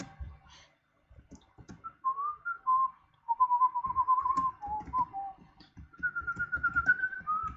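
A whistled melody from the video game BoNS plays clearly in a series of sustained, wavering phrases, with soft clicks and taps scattered underneath and no talking.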